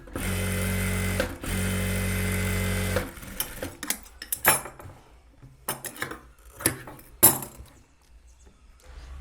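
A sewing machine stitches a crepe silk blouse back neck in a steady, loud three-second run, then stops, followed by a few scattered clicks and light handling knocks.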